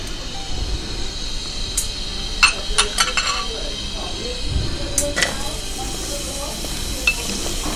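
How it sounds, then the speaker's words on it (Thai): Shallots roast in a little oil in a pan, giving a soft sizzle with clinks and scrapes of a utensil against the pan in quick bursts, close and moderately loud. "ใส่น้ำมันลงไปสักนิดนึงเพื่อที่จะคั่วหอมแดงค่ะ"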